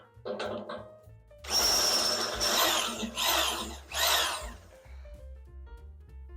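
A power drill whines through metal go-kart body panels in several loud, close bursts, with brief pauses between holes and quieter rattling at the start and end.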